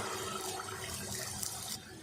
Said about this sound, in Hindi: 1 कप पानी मैंने डाल दिया।